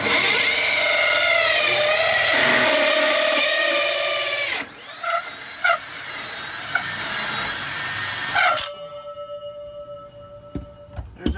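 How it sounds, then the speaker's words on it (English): A power drill bores a hole through the wall of an RV during a washer/dryer install, whining loudly and steadily before cutting out, followed by a faint ringing tone and light clicks. "let me have that other drill, that one"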